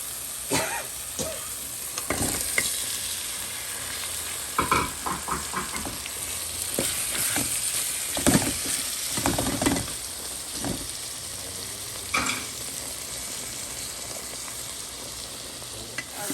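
Meat frying in oil with spices, a continuous close sizzle broken repeatedly by the scrape and clatter of a spoon stirring in the pan.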